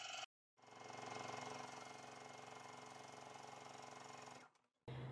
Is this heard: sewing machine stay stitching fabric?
yes